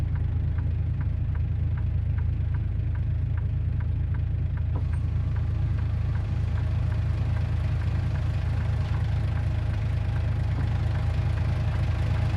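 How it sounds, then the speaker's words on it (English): A truck engine idles steadily in American Truck Simulator with a deep, continuous low rumble and faint rhythmic ticking, close and unchanging throughout, with no talking. "Now you can hear the engine better."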